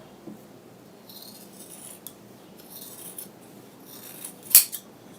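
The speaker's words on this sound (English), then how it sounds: "I'm just going to cut this out." Scissors slice through fabric for a draped dress pattern in quiet, intermittent snips and rustles, ending with a sharper, louder cut near the close.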